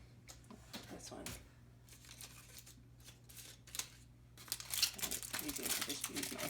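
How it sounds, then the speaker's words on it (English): Tin foil is peeled off cheese bread baking in a pot, giving close, bursty crinkling and rustling that builds toward the end, with a little talk mixed in. "I'm gonna take the lid off of the one in my pot. And then the tin foil."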